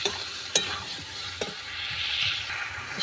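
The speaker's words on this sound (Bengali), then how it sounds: "সব মশলা দেওয়া হয়ে গেছে, এবার ভালোভাবে কষিয়ে নেব।" Spices and soybeans being stirred and fried in a pan for a Bengali soybean curry, with a steady low sizzle and a few sharp scrapes of a spoon against the pan, close and alone without talk.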